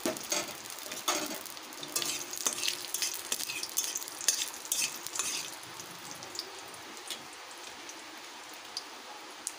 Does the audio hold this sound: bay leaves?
yes